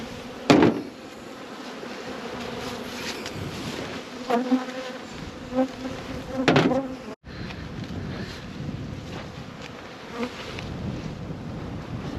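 Honey bees buzzing around beehives outdoors, a continuous dense droning hum with individual bees passing close, over a breezy background rush and faint distant talk.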